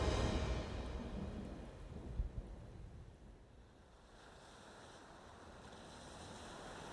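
Rough sea surf around a small rocky island, a loud rushing wash of waves at first that fades into a softer, steady windy roar, with no voices.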